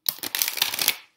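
A quick, close burst of oracle cards being shuffled, crisp riffling flutters lasting about a second.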